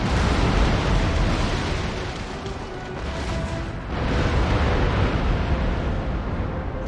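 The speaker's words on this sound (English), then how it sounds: "Oh, the front cannons from this galleon just blew up that brig." Naval battle in the video game Empire: Total War, a galleon's front cannons blasting and destroying a brig: a loud, dense, continuous roar of cannon fire and explosions with a brief dip before the barrage swells again.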